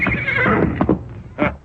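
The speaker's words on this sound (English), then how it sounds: "At the sound of an approaching horse" Horse neighing as a radio drama sound effect: a loud, close whinny with trembling, wavering calls, then a short pause and one more sharp neigh near the end.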